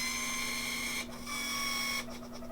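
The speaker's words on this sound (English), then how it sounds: "watching the burrs adjust themselves automatically is very cool" Mahlkonig E80W GBS coffee grinder adjusting its burrs automatically, a faint steady whirring motor hum with a high whine that drops out twice in short pauses, heard close and alone.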